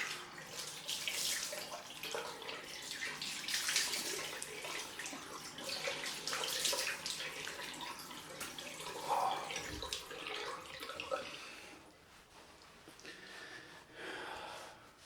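Water runs steadily from a tap at a sink while a shaved head is rinsed off, with splashing and a brief snort over the continuous stream, no speech.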